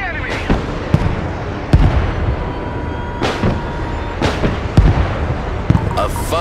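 Anti-aircraft fire from short-range air defense in the video game Broken Arrow: several sharp, loud bursts at irregular intervals over a steady rumbling battlefield background, with no speech over them.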